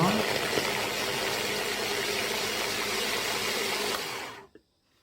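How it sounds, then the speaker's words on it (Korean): A hand blender grinds a torn slice of grain bread into crumbs, a loud steady motor whir that runs unbroken for about four seconds and then winds down quickly and stops. "곡물 식빵 한 장을 뜯어서 핸드 블렌드에 곱게 갈아줍니다."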